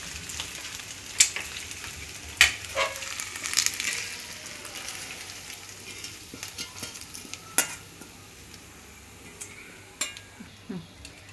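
Paneer cubes fry in a pan while being stirred, producing a low sizzle broken by scattered scraping and tapping strokes, mostly quiet and close.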